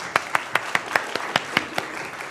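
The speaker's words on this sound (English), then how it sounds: "could you please go a little round of applause for that?" A short round of light clapping from a few people at a keynote talk, the claps landing in a steady, even rhythm.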